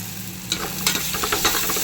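Ginger garlic paste and a handful of mint sizzling in hot oil in a pressure cooker for chicken biryani, a steady close fry broken by a few scraping stirs of a spoon against the pot.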